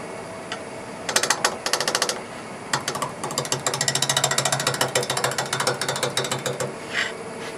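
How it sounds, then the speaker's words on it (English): An Ellsworth-style bowl gouge chatters against a spinning wooden blank on a lathe while a four-sided jar is turned, making a rapid, rattling series of clicks in bursts, loud and close with a steady motor hum beneath. "I'm going to go with an Ellsworth type gouge."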